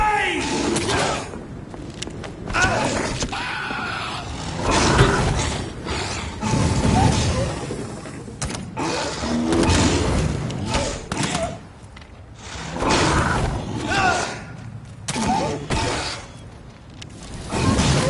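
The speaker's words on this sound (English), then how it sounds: "Grenade!" Grenade blast in the video game Vampyr, a heavy thud and boom among scattered combat clatter, mechanical clanks and whooshes, with loud impacts recurring across the scene.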